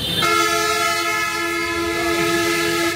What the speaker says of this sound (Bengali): পেছনে ট্রাক একটা হর্ন দিচ্ছে।